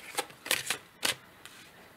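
Tarot cards are shuffled for a new reading, making several quick, close riffling bursts in an uneven rhythm, with short quiet gaps between them.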